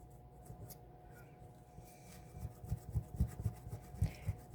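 Close, quiet scraping and rubbing as residue is worked off a resin mold, faint at first, then building into firm repeated strokes in the second half.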